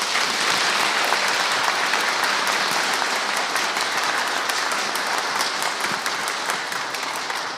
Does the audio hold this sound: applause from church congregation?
yes